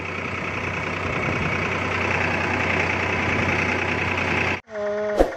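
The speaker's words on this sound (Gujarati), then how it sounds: "સનેડો ટ્રેક્ટર છે આપણું" A Sanedo farm tractor engine drones loudly and steadily at close range for several seconds, then cuts off abruptly, followed by a brief tonal whine after the break.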